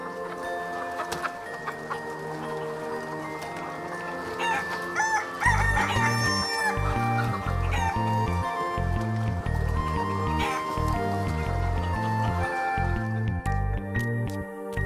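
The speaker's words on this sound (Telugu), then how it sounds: "ఏంట్రా కోడి పందాలు వేస్తున్నారు ఇక్కడ?" Roosters crow and cluck at a village cockfight, with repeated cock-a-doodle-doo calls rising over a loud, busy background of pulsing low thumps from about the middle onward.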